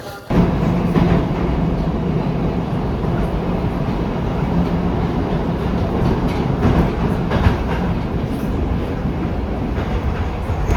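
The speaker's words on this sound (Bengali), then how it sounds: "ইয়াকতুরিনবার্গ থেকে ট্রেনটা আসলো।" Train arriving in Moscow from Yekaterinburg on a snowy day, a loud, close, continuous rumble of rolling wagons with steady rail clatter and no voices.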